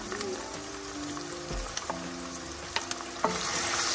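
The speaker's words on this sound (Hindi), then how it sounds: "जैसे हमारे ये हरी मिर्च और लहसुन अदरक का पेस्ट जो है वो थोड़ा सा भून लेंगे" Green chilies and ginger-garlic paste fry in a pan for a pilchard fish curry, giving a steady close sizzle with a few soft stirring scrapes and clinks throughout.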